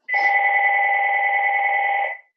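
A single long electronic telephone ring, bright and steady with a buzzy trill, sounding close and clear for about two seconds before stopping.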